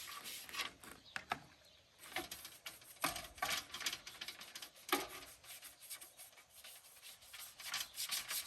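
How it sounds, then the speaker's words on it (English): Someone hand scrubs grimy parts of a vintage MTD tiller with a 5hp Tecumseh engine, making quiet, irregular rasping rubs in short bursts with brief pauses, close by and with no talking. "So it's gonna be some old hand scrubbing going on."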